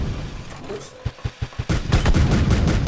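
Gunfire in an online video game, with a soft burst, then a run of five sharp single shots, followed by loud continuous automatic fire that fills the rest of the moment.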